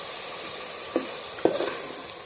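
Coconut milk being stirred in a pot over medium-low gas for puli pitha: a soft, steady hiss with two distinct scraping strokes of the spoon against the pot; no speech.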